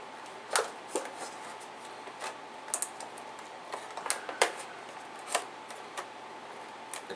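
Scissors make small scattered snips and clicks while cutting into amiibo packaging, quiet and close, with uneven pauses between cuts.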